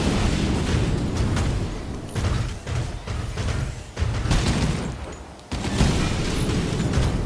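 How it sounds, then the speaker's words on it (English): A grenade explodes in Synduality: Echo of Ada amid a string of booming blasts and rumbling bursts, several sharp onsets spaced a second or two apart, loud and close, with no speech. "Here goes a grenade."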